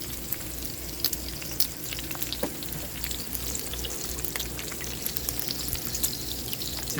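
Thick-cut bacon frying outdoors, a loud continuous sizzle with crackling pops and spits close by, steady for several seconds with no talking.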